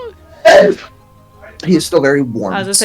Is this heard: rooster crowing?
no